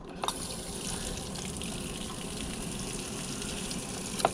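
Water sprays steadily from a camper's outside shower while it is winterized with pink antifreeze, a soft continuous hiss with brief clicks at the start and end.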